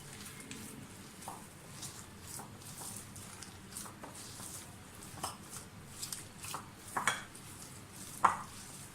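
Kebab mince being mixed with masala in a bowl: soft, irregular squelching and stirring with occasional clinks of utensil against the dish, fairly quiet and close.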